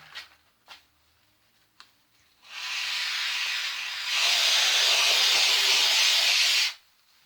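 Great Stuff expanding foam sprayed from a can into a plastic cup: a few faint clicks, then a loud steady hiss lasting about four seconds that grows stronger midway and cuts off abruptly.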